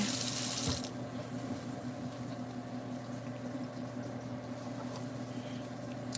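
Water from a tap pours into a kitchen sink and down the drain, a steady close rushing hiss with a louder splash at the start, then settling into a constant flow.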